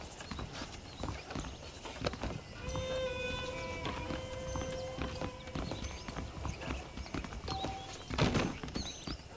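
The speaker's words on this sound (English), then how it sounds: "The horses are saddled up over here." Steady clip-clop of video game horse hooves trotting on hard ground, with a sustained tone and a brief louder crash partway through.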